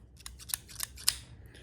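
A small cutter snips close to a knot, giving three crisp, quiet clicks spaced a fraction of a second apart, with no voices.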